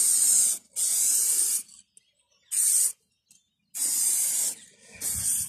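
A spray paint can lays a light coat over the top of a bus model in several close, loud hissing bursts of a second or so each, separated by short silent pauses.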